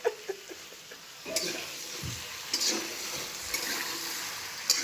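White potato curry cooking in a pan, with soft stirring scrapes and a faint sizzle, punctuated by a few sharper clinks of utensil on metal; voices murmur faintly in the background.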